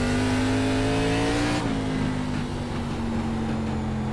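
An ARCA Menards Series stock car in the iRacing simulator drones loudly at Langley Speedway, a steady high-pitched engine note that dips slightly as it shifts into a lower, rougher tone, continuous with no talking.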